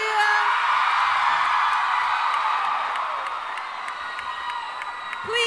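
Loud, sustained cheering, whooping and applause from a large Comic-Con panel audience, filling the whole stretch and tapering slightly at the end.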